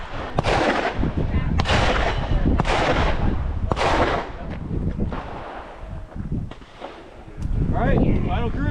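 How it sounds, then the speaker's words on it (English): Handgun shots on an outdoor shooting range during a concealed carry skill drill, several loud sharp reports spaced about a second apart, with other shooters' fire echoing nearby. "You're gonna do 5 shots on target"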